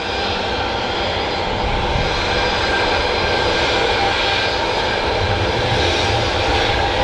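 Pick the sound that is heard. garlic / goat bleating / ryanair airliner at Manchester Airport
ryanair airliner at Manchester Airport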